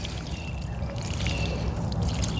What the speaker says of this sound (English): So I'm just going to refill this twice again and water them in some more